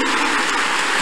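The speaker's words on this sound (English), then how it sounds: "Clap your hands unto God of the chosen." A church congregation claps their hands in a dense, continuous wash of applause, loud and close, with no distinct individual claps standing out.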